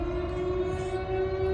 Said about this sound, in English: this siren thing, you know, it can be various different emergencies